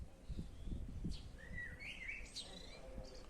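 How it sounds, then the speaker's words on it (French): Several small birds chirping and tweeting outside a quiet house, short bright calls scattered over soft low background rumble, faint and distant. "on entend quelques oiseaux"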